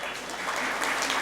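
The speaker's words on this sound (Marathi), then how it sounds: "बापूंसाठी सुद्धा एकदा जोरदार टाळ्या वाजवूया" An audience claps at a prize distribution ceremony, a dense, even burst of applause from a crowd, steady and slightly swelling across the short stretch, heard without any talk over it.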